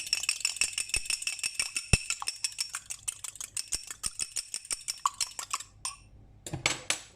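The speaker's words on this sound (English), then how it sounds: "And I have my egg here. Just going to beat it before I add it in." An egg beaten briskly in a bowl for a traditional Irish soda bread batter, giving a steady run of fast, close utensil clicks against the bowl's side, slowing near the end after a short pause.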